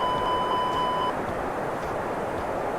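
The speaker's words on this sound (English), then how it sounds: "the alarm will go off until we correct that condition" A steady electronic overspeed warning tone sounds continuously in a Toliss A319 Airbus flight simulator cockpit, then cuts off after about a second, leaving a constant engine and cabin rumble.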